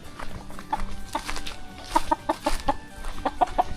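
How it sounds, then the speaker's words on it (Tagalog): Chicks being unloaded among farm poultry, with repeated clucks and chirpy calls nearby, bursts clustering in quick runs over a rustling background. "Maraming sisiw na parating ko."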